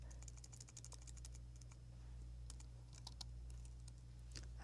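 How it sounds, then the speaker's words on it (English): Typing on a computer keyboard, a quiet, irregular patter of light key clicks over a steady low hum, no voices. "Might want to edit all my typing out."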